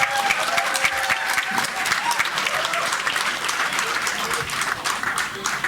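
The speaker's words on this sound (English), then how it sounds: "a warm round of applause for an institute, for your faculty, please" Sustained, dense applause from an audience at a college convocation ceremony, steady and fairly close throughout, with no breaks and no talk over it.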